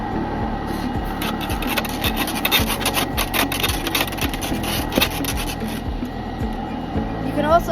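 A brush scrubs lint inside a dryer vent pipe in quick repeated rasping strokes, a close, gritty back-and-forth scraping that runs steadily throughout.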